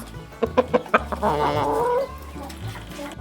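Chickens, including Rhode Island Reds and speckled carijó hens, give a quick run of sharp clucks followed by a longer drawn-out squawking call, close and clear.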